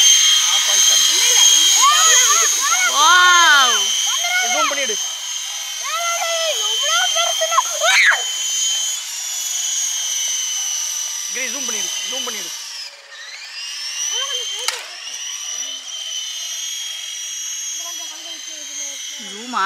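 A high, steady motor whine buzzes continuously from a large radio-controlled helicopter hovering close, while voices chatter over it with rising and falling pitch.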